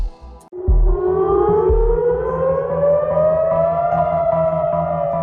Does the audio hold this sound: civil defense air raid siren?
yes